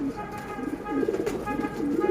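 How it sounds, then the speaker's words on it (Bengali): A silver racing pigeon from a tournament line coos in repeated low rolling phrases close by, steady and fairly loud, with faint background noise. "এটা সিলভার জেনারেশনেরই একটা কবুতর"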